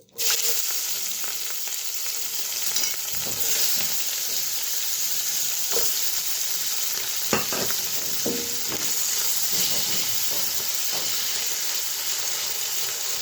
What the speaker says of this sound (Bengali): মাছের মধ্যে লবণ, আর দিয়ে দিব হলুদ গুঁড়ো, দিয়ে ভালোভাবে মেখেটাকে ভেজে নেব।